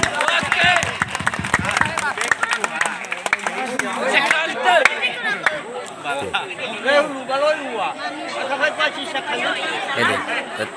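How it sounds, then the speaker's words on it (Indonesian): An audience at a traditional pencak silat show in Desa Sifalago Gomo, Boronadu, claps hands in a brisk burst lasting about two seconds. Lively crowd chatter and talking carry on afterward. "Mari kita tepuk tangan."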